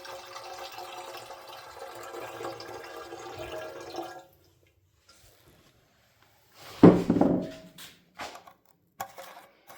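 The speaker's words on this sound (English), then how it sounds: "Pour some water in it." Water is poured into a John Deere 110 engine during cleaning, giving a splashing trickle that runs for a few seconds, stops, then returns as a louder splash followed by scattered drips and clunks.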